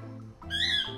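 A short, shrill squawk from a parrot rises sharply over a low background hum, close and loud, lasting about half a second.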